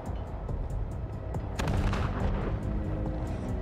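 Gunfire in the video game Wasteland 3, with sharp repeated cracks over a rumbling background and a heavier blast about halfway through that leaves a lingering boom.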